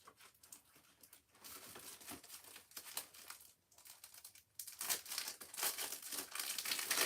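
Scissors snip and rustle through crinkly material while cutting small squares for a Dollar Tree organizer craft, a quiet, uneven run of cuts and crumpling handling noises up close.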